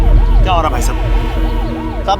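An ambulance stuck in city traffic wails with a loud, close siren in steady rising-and-falling sweeps over engine rumble and road noise.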